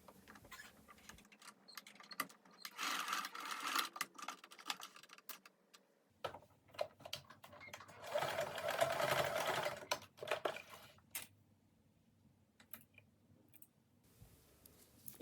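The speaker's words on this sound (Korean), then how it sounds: "주머니에 고정 스티치를 해줍니다." Sewing machine running fast bursts of stitching as it tacks down a pocket on a summer cardigan, with short pauses and fabric handling between runs; close, fairly quiet, no voices.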